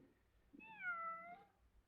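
A single drawn-out meow from a cat shut in somewhere, muffled and fairly faint, rising and then trailing off over a low background hum.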